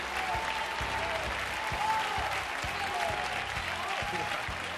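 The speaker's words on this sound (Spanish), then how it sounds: "al que despedimos con esta fuerte ovación" A television studio audience gives a sustained ovation, steady clapping with rhythmic pulses as the crowd claps in time, moderately distant and even throughout.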